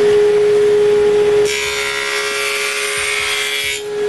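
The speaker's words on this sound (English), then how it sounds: "I cut a rabbet on the top and bottom of all the pieces." Table saw fitted with a dado set, blade tilted, cutting rabbets into wooden pieces: a steady motor whine, then a loud sustained bite into the wood lasting a few seconds before the cut eases off.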